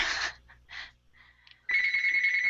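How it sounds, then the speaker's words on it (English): A phone ringer sounds during a call, with a couple of short electronic chirps and then a loud, sustained ringing tone, near and clear. "I hear your ringer."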